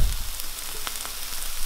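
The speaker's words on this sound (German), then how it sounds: "Die Tomaten, die Zwiebeln werde ich jetzt angaren. Und den Rest in die Pfanne tun." Tomatoes, onions and garlic sizzle in a frying pan, a soft continuous crackle with small pops, heard close and alone.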